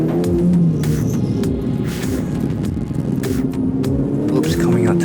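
A Ferrari 488 Challenge race car engine drones loud and steady on a circuit, with throbbing low rumble and brief rising revs and flapping wind bursts through corners.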